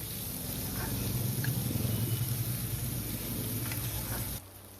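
Onions and garlic fry in hot oil in a home kitchen, giving a steady, moderate sizzle and crackle that continues evenly for several seconds before cutting off abruptly near the end.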